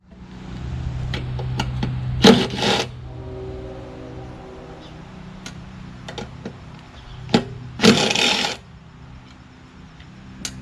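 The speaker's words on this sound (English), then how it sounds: "I'm gonna loosen these 2 bolts, take that off, so I'll be able to take this carburetor off." Bolts loosened on the carburetor of a Kohler XT675 engine on a Toro Recycler lawn mower, with a few close metallic wrench clicks and ticks and two louder scraping bursts, no talk.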